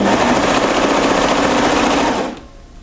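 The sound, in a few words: sewing machine stitching a French terry sweater seam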